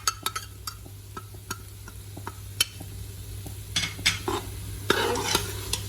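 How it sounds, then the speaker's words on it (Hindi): Dry spices being fried and stirred into minced meat for samosa filling, with busy spoon scrapes and clinks against the pan over a low sizzle and a constant background hum. "इसको भी 1 मिनट के लिए इसके साथ फ्राई कर दें"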